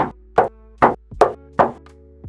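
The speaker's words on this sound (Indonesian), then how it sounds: "Kita ketok juga ini di bagian pintu depan." Knuckles knocking on the front door panel of a Toyota Innova Reborn V, five hollow, resonant raps at a steady pace, close and loud, with a faint ring after each.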